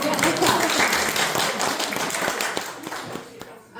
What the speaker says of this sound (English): someone gonna clap? Yes, clap.